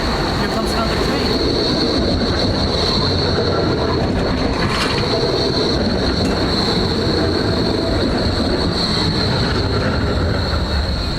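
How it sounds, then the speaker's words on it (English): A train rolls past loud and close, a constant roaring rumble of wheels on rails with a sustained high metallic squeal throughout and faint clatter, filling the whole stretch. "Here comes another train."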